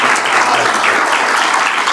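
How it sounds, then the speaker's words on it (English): An audience at a sanitation innovations conference claps in a dense, sustained round of applause that fills the short moment, with no voices over it. "give them a round of applause for all the work they've done"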